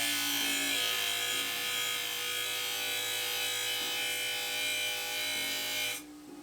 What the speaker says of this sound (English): So I'm gonna put this wheel on the grinder.